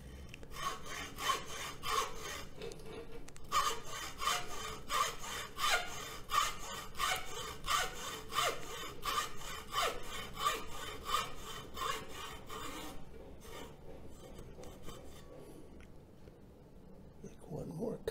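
A hacksaw cutting through material for a homemade crystal radio, with rapid rhythmic back-and-forth rasping strokes that run close and steady for most of the clip, then briefly pause near the end, while a voice speaks softly at times.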